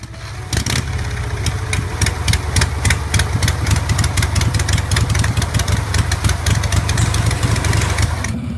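Harley-Davidson Knucklehead V-Twin motorcycle engine running steadily, a loud, close, continuous rumbling throb with uneven lumpy firing pulses and no voices over it.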